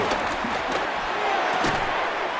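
Football stadium crowd at an NFL game between Buffalo and San Francisco, a loud, steady roar of massed voices rising on 3rd and inches to force a false start, sustained and dense throughout.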